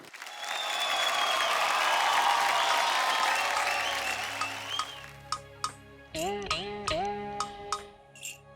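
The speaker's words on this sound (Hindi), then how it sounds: "जोरदार तालियां हो जाएं।" Loud audience applause on a folk singing reality show stage, a dense sustained burst of clapping that gradually thins into scattered claps while a few tonal musical notes and chimes ring through at the end.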